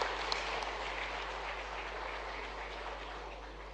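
An audience applauds at a public gathering in Madhya Pradesh held in the Chief Minister's presence, welcoming Raghubir Yadav to the stage, a steady, fairly faint wash of clapping with no voices.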